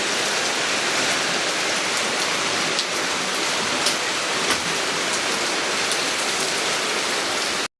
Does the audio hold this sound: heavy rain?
yes